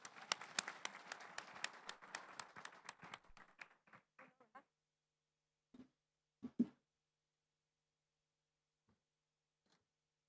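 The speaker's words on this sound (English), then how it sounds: "Shall we welcome him with a big round of applause?" Applause from a small audience welcoming President Ramray Chan Keshing to the stage at the TKLD XVIII event, dense clapping for about four seconds that thins out, followed by a few scattered late claps.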